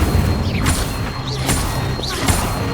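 Incendio fire spells cast in Hogwarts Legacy, heard as a few loud bursts and whooshing hits with rising whistles, spaced about a second apart over steady game background noise.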